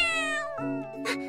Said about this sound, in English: Or maybe the cat is just an asshole.